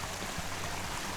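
Mountain stream water running steadily along an Adirondacks hiking trail, a continuous close rushing and trickling wash with no voices.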